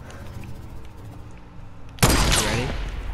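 Gunfire in the Fortnite battle royale game in a trap ball mode starts suddenly after a low, quiet stretch, becoming a loud, dense burst of shots and impacts that carries on to the end.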